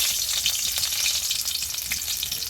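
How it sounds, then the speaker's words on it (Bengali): Chopped garlic frying in hot oil, a loud, steady sizzle with crackling pops and occasional stirring sounds, heard close up with no talk. "তেল গরম হয়ে গেছে রান্নাটা শুরু করি তো প্রথমে আমি এখানে কিছু রসুন কুচি দিয়ে দিলাম"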